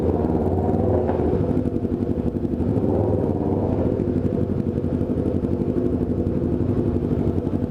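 A motorcycle engine rumbles steadily at close range while being parked, a continuous low throb with slight variation and no voices.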